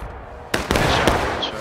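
Gunshots in War of Rights, a Civil War-era battle: several sharp musket cracks in quick succession, loud and close, over a busy battlefield din.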